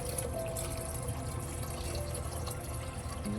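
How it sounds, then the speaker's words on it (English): Liquid nematode mixture is poured into a watering can, giving a continuous wash of water noise with a low rumble and faint trickling, steady throughout with no speech. "So now we're gonna just transfer this nematode mixture into our watering can."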